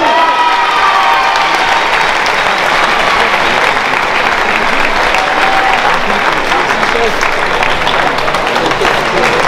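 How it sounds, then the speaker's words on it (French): Loud, dense audience applause with some cheering fills a venue after the final of a boxing tournament, continuous and steady throughout. "ils méritent tous les deux les applaudissements"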